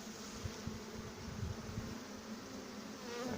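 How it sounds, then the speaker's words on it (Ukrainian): Honey bees are shaken off a hive frame while a colony is being split, and the swarm gives a dense, steady buzzing hum that stays loud and close throughout, with no voices. "І струшуємо бджіл, які в нас залишились"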